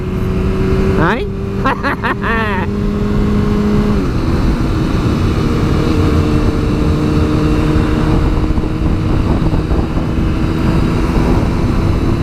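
A 15-year-old motorcycle engine revving on a ride, loud and close with rising and falling pitch over steady wind and road noise, while someone talks excitedly over it.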